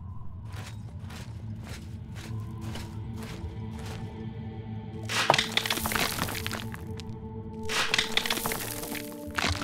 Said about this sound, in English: Sounds really cool when you have a silver vein or whatever.